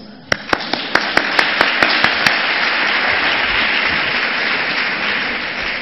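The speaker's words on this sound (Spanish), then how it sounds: "Un aplauso." Audience applause at an education talk opens with a few sharp distinct claps, then swells into dense, steady clapping from a large crowd that continues to the end.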